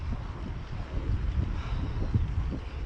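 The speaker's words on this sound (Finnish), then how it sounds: "Tuulee. Mistä se nyt tuulee?" Wind rushes and buffets the microphone during a recumbent bike ride in Estonia under partly cloudy skies, a constant low roaring rumble with no voices.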